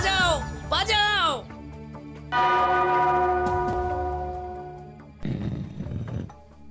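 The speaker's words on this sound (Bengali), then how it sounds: "ওই ঘন্টাটা বাজাও, বাজাও।" A bell in a storybook palace rings with a long, clear, sustained tone that slowly fades, then a second strike; excited voices talk before it.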